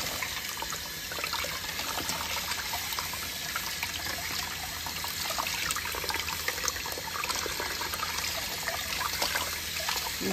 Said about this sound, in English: And rinse them really, really good. All the way to the very center of the artichoke.